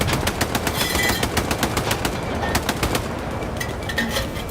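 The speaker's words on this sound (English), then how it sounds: "There's shots." Rapid automatic gunfire crackles in the Vietnam-era video game Hell Let Loose Vietnam. Dense, loud bursts follow one another in quick rhythm and continue throughout without pause.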